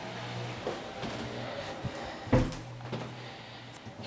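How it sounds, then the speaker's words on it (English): A back door of a basement apartment rental opens with a single sharp clunk near the middle, set against a quiet indoor room hum with faint handling noises around it. "And then we'll enter into the back door here."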